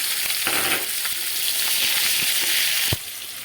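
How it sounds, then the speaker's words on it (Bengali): Loud, close sizzling as onion hits hot oil with fried cumin seeds, a dense steady hiss that surges early and eases off near the end. "জিরা ভাজা হয়ে গেছে এখন এই পেঁয়াজটা ঢেলে দেবো"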